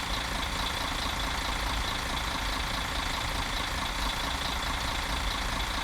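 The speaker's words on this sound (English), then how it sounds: "The sound of the diesel engine of the coach is pretty good externally." A coach's diesel engine in a driving simulator game, heard from outside, drones continuously, a low rumbling idle with broad noise, constant in loudness with no voices.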